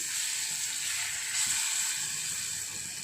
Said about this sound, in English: I'll saute them well.